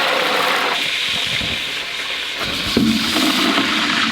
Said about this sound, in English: Pulling that pot off. Dump the wax into there.